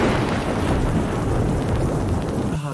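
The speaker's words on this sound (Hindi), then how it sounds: "तभी जोर से बिजली कड़की और" Thunder rumbles as a sound effect in a spoken audio story, a dense continuous roar of rolling thunder with rain-like hiss, loud and sustained throughout without any voice.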